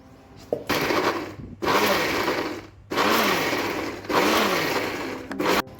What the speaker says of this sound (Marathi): आधी मिरची टाकली, परत मध्ये मीठ टाकलं आणि मग आपण हे सगळं एकजीव करून थोडंसं जाडसर दळणार आहे.